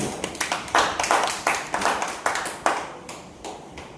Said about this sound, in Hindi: एक बार ताली बजा के स्वागत कर दें